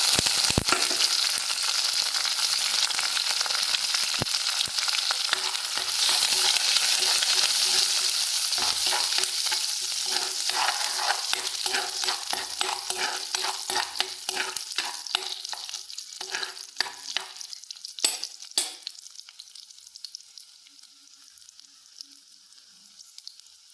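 Onion, dried chili and curry leaves frying in hot oil for a tempering, a loud steady sizzle with stirring clatter that gradually fades toward the end, with no talking.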